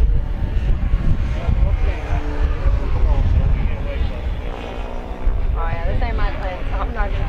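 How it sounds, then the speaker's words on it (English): An FMS Ranger radio-controlled model airplane flies at an RC meet, its electric motor droning steadily amid loud wind and ambient noise, with pitch shifts as it passes near. "So there's Wesley and Gavin screwing around with my plane."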